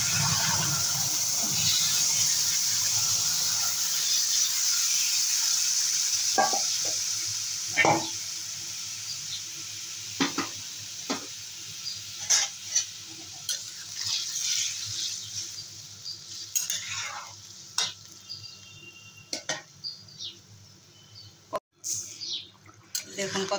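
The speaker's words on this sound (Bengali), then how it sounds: "এবার তরকারিটা ঢেলে দেবো" Vegetable curry poured into hot oil seasoned with cumin and bay leaf, giving a broad hissing sizzle that fades into softer crackles, scattered stirring clinks and taps close by.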